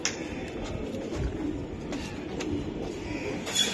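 A racing pigeon, an original racer bird from the BRPFC club, gives low soft coos close by over faint background rustle and room noise.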